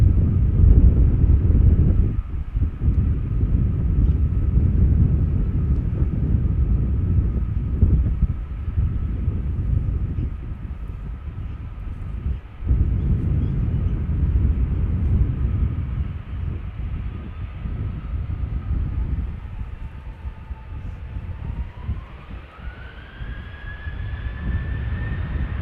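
A KLM Boeing 737-800, 22 years old, departing Amsterdam Schiphol runway 36L bound for Zurich; a steady loud broadband engine roar with wind noise throughout, rising whine emerging near the end as thrust builds.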